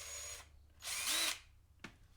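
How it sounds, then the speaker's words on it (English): Ryobi cordless impact driver switched on and off in short bursts: a loud whirring run, a longer louder burst, then a brief final blip, with quiet gaps between. "if you look in there as I turn it on and off, you'll see the flash of the engine engaging and disengaging"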